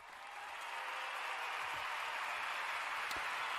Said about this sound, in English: Give me my applause